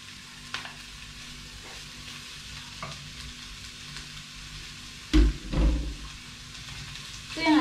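Pork belly fries in a pan for a creamy carbonara, a low steady sizzle with occasional stirring clatter and a few louder thumps near the end.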